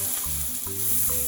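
Butter sizzling in a hot pan beside a sous vide New York steak, a dense, even frying hiss with faint stirring scrapes, close and steady throughout.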